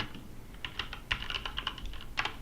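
Typing on a computer keyboard while searching during work on the Rust compiler, quick irregular close clicks and taps in short bursts, with no talking.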